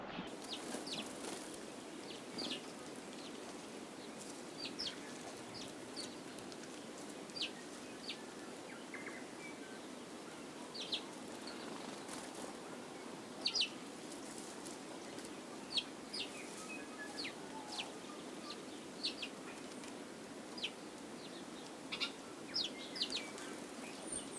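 Birds chirp in scattered bursts over a steady outdoor hiss, faint and fairly distant, with occasional clucking.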